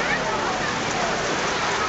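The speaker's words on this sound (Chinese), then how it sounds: "雨真的说来就来，夸张。" A sudden outdoor rain shower comes down as a steady, dense hiss of drops hitting surfaces, loud and unbroken throughout.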